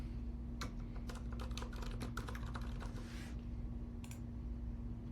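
Quick keystrokes on a computer keyboard typing a short title for a saved view, a brisk run of clicks followed by a pause and a couple more taps, over a steady low hum.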